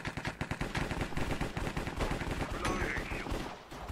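Rapid bursts of automatic gunfire fill a cops and robbers video game match, dense overlapping shots rattling continuously and loudly for the whole stretch, with faint voice underneath.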